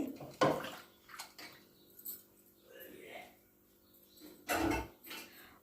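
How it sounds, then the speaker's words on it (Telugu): Toor dal being rinsed with water inside a pressure cooker: two short, splashy sloshes several seconds apart, quiet and close, with faint low noise between them. "పప్పు కుక్కర్లో వేసి రెండు మూడు సార్లు కడుక్కొని మళ్ళీ వాటర్ పోసుకొని"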